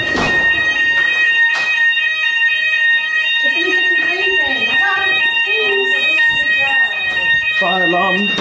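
A loud fire alarm blares steadily in a flat at night with piercing high tones throughout, while people talk over it.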